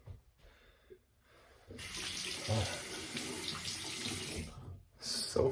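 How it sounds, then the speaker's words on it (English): A tap runs into a sink for rinsing after a shave with a rectangle razor. A steady, close gush of water starts after a quiet opening, stops briefly near the end, then restarts. "rinse off real quick"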